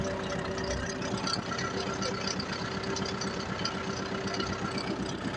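Tractor engine idling with a steady low knocking rhythm, moderately distant and constant throughout, with no talk over it.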